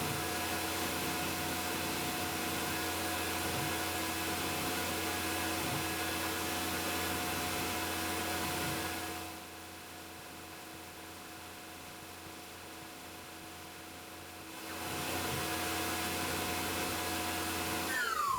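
A CNC machine engraves a trace on a KTM motorcycle plate with a Lakeshore two-flute engraver at max RPM, giving a steady broadband whine with tonal lines that dips quieter midway, then returns to full level.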